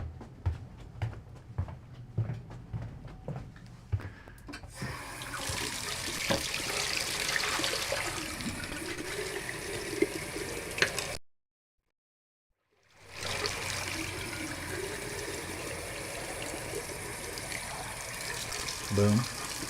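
Water runs from a tap as paint water is rinsed out, a steady rushing gush after a few clinks, briefly cut to silence before the flow resumes, close by.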